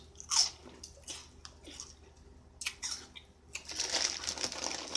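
Crunchy Flamin' Hot Funyuns snack being bitten and chewed, with several sharp close crunches and then a denser run of munching and bag crinkle, no talk.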